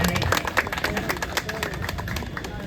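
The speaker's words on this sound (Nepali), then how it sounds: "ताली ताली।" Applause and clapping from an audience at a Teej ceremony as a vice-chairman receives a badge and garland. The clapping is steady and fairly close, with a voice speaking over it.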